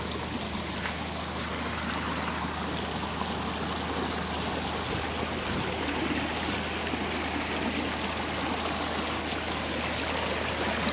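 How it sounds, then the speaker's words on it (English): River in Nyabohanse village, Kenya, flows with a steady, even rushing and gurgling that holds at a moderate level throughout, with no voices over it. "the so-called YouTube river, flowing from this side to this side"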